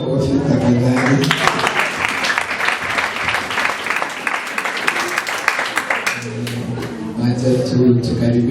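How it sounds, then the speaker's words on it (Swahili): An audience claps during a gathering with children. People speak before and after, and the applause fills the middle as a lively burst of hand claps that fades back into voices. "Tuongeze makofi tafadhali."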